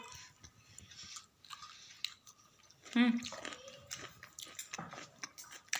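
Boiled corn on the cob seasoned with black pepper, salt and butter is chewed in close, soft, wet bites, with crunching bursts, between snatches of indoor talk.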